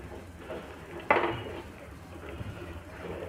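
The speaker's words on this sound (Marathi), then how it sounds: "रुमालाने पातेलं पकडून आपण हे असं लाटण्यानं आपला गोळा तयार करून घ्यायचा आहे आपल्याला" A rolling pin works thick wheat chik papad dough inside a metal pot held steady with a cloth, giving low scraping and shuffling sounds with one sharp metallic clank, close and fairly quiet.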